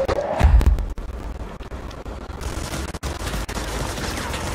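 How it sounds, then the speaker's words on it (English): Gunfire in the video game Control, dense bursts of shots fired at the player, loud and close at first and then continuing as steady crackling fire with no voices. "Where are they shooting us from?"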